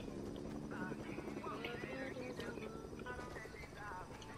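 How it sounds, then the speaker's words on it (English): The rhythmic thudding whir of a helicopter's rotors runs steadily throughout, mixed with game sounds and chatter. "Oh, I hear a chopper."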